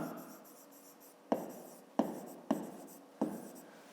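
A pen writes by hand on paper at close range, with scratchy strokes and four sharp taps as the pen strikes the page, during a fifth-grade math exercise. No one talks.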